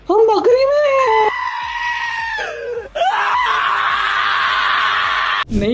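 A goat bleats loudly and close, drawing out long, wavering, nasal cries that rise and fall in pitch, one after another with barely a break.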